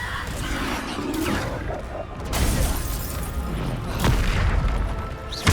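Bombarda explosion spells in Hogwarts Legacy boom repeatedly amid combat, with several loud bursts and crashes rolling one into another, mixed with other spell effects and battle noise.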